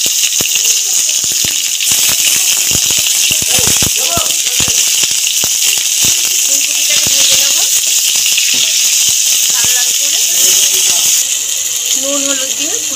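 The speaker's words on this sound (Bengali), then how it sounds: "নুন হলুদ দিয়ে ফুলকপিগুলোকে লাল লাল করে ভাজা হয়ে গেছে" Cut cauliflower florets frying with salt and turmeric in hot oil in a pan give a loud, continuous sizzle with scattered crackles and pops, and a voice talks over it.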